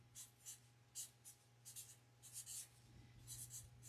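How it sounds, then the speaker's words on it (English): A fine point Sharpie marker writes on poster board in quick, soft squeaky strokes, close and quiet, in short bursts with pauses between letters over a steady low hum. "This is a fine point Sharpie marker. And so then I write Country"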